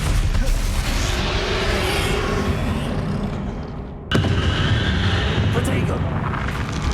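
Fantasy spell combat from the Hogwarts Legacy video game, a Confringo fire spell producing a booming, roaring explosive blast with a sudden sharp impact midway, loud and sustained under game effects.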